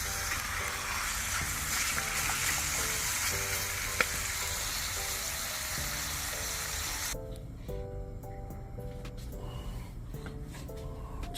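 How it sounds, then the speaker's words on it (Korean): Ugeoji doenjang soup, made with dried outer cabbage leaves and soybean paste, cooks in a pot outdoors with a steady dense bubbling hiss. The sound is continuous and close, and it thins slightly partway through. "지금 방금 저희가 한 우거지로 이렇게 지금 국을 끓이고 있습니다."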